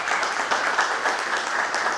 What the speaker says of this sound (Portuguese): eu peço uma salva de palmas para a Associação da APAP